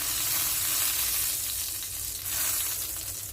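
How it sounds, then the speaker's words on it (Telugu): Fish frying in oil in a pan, giving a loud, continuous close-up sizzle that swells slightly midway, with no talk. "ఇలాగే మనం అన్ని ఫిష్ని ఫ్రై చేసుకుందామండి."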